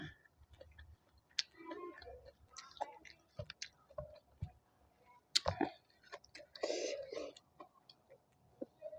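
Close, quiet crunching and chewing of a spicy giant squid tentacle salad in irregular bursts, with small clicks and mouth sounds between bites.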